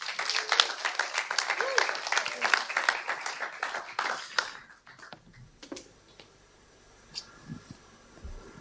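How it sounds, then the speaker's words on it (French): An audience in a church gathering claps in a dense burst of applause for several seconds, then fades to a few scattered claps and quiet room noise. "Merci Esther, on peut l'applaudir."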